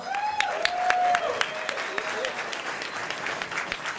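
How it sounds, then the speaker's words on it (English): Wedding reception guests clap in a steady round of applause, with voices and cheering mixed in over the clapping. "please give Toro and Nitin a round of applause"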